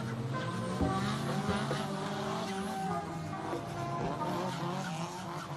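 A car in a racing video game drifts through a corner on a Japanese-style drift track, its tires squealing continuously and loudly over a strained engine for several seconds.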